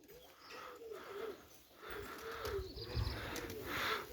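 Pigeons cooing in soft, repeated throaty phrases, several birds overlapping at close range with light rustling in the background.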